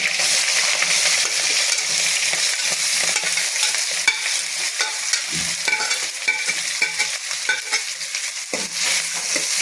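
Onions frying with mustard seeds in a hot pan, a dense, loud sizzle broken up by scrapes and clinks of stirring throughout.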